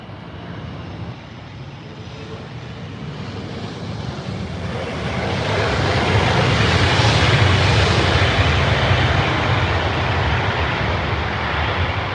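A Cargojet cargo aircraft inbound from Cincinnati passes at Heathrow Airport, its broad engine roar swelling from a steady rumble to a loud, close peak and holding there, with no talking.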